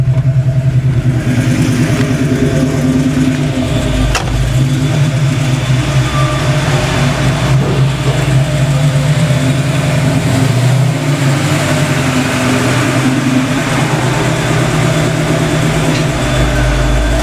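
A car with a T-5 transmission and 5.0 engine pulls in, its loud, steady low engine rumble running continuously close by, with no talk.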